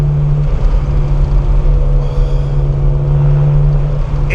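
A Ferrari 360 Modena engine while driving gives a steady, loud, low drone with a constant hum and no obvious revving, heard from inside the car.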